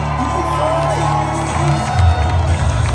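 A large crowd at a Pierre Poilievre political rally cheers and whoops, a dense roar of voices with shouts rising and falling, loud and close throughout.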